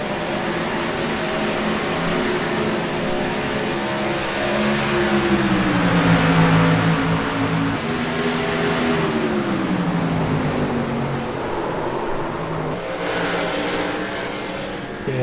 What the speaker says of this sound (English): car got loose up top and Craig went on the inside